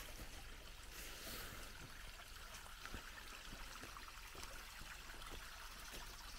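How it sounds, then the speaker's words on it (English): Water flows steadily past a soil and gabion dam wall, a constant broadband rush with faint trickles, fairly quiet and unbroken throughout with no voices. "Just beautiful to hear the water flow"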